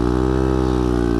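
A scooter engine running with no exhaust fitted drones loudly and steadily at close range, a harsh buzzing tone with no break.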